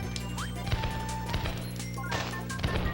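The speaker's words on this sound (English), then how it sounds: "Bomb plus fire is... Firework Kirby!" Firework Kirby power-up in the Kirby 64 video game sets off a rapid series of crackling, popping explosions with bright whistles and chimes over steady game music.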